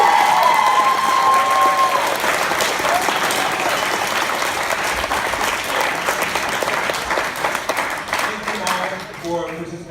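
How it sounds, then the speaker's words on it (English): A convention crowd applauds after a script reading at TFcon 2017 in Reston, Virginia, with loud, dense clapping that continues steadily for about ten seconds before thinning out. A voice speaks briefly near the start. "Give them a round of applause again."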